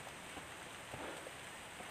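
Steady rain falling through dense vegetation on a mountain trail at night in thick fog, a soft continuous hiss at low level with no talking.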